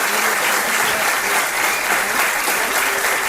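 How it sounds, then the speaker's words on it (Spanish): A lecture audience gives Jesús Ortega loud, sustained applause, a thick even wash of clapping from many hands with no voices over it. "os pido un aplauso para él"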